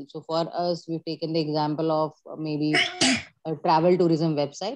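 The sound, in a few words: sneeze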